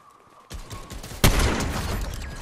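Gunfire in Fortnite: a soft patter of distant shots gives way to one sharp, loud blast, followed by a lingering, noisy rumble of continued firing.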